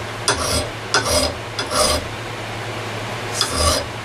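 A file rasps along a hatchet edge clamped in a vise, four separate close strokes with short pauses between them, harsh and scraping, with no talk.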